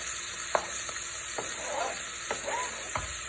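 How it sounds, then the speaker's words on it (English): Vegetables for goulash sizzle and fry in a pan while being stirred, with a steady hiss and a few soft scraping taps from the stirring, close and without any talk. "Okay, now we need to stir this around a bit, Robbie. Stir the veg around"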